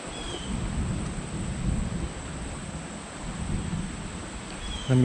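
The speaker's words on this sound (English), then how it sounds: "the thunder's still there" Distant thunder beside a creek: a low, steady rumble that swells and fades over several seconds, blended with wind and rain-like hiss, with no voices.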